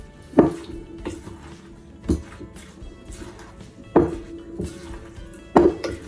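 A utensil mixing green tomato fritter batter with egg yolk in a bowl, with a few sharp knocks and taps against the bowl spaced a second or two apart, close up over quiet background.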